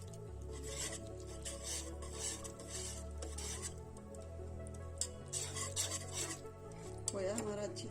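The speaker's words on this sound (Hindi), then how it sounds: "मिक्सर से मिक्स करेंगे" Milk and khoya being stirred and mixed in a pan on a stove, a steady scraping, rubbing churn with faint metallic clinks, moderately quiet and continuous.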